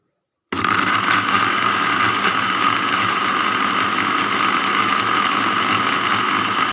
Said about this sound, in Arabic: وكنطحن كلشي البنات في مونينكس